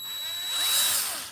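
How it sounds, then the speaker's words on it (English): Electric drill spinning a Humvee speedometer cable during dash assembly, a steady high whine that swells slightly in the middle of a short continuous run. "I just hook up this drill to the cable and then see if I can get it rotating."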